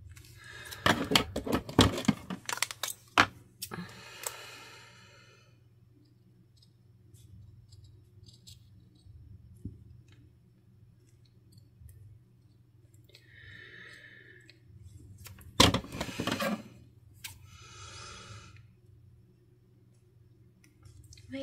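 Scissors snip along a seam while cutting paper for a junk journal, a few close crisp clicks and crunches in quick clusters at the start and again near the end, with quiet gaps between.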